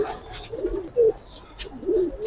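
Pigeons of an old breed coo close by in soft, throaty murmurs, with a few separate low calls spread across a couple of seconds.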